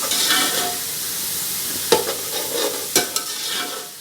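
Ingredients for matar pulao fry in a pan with a loud, steady sizzle, a couple of sharp spoon knocks and scrapes of stirring cutting through near the end.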